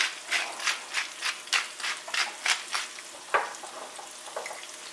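Sliced potatoes frying in a pan, a close, moderately loud crackling sizzle in rhythmic bursts, as if stirred or tossed, with a sharper scrape near the end and no talk.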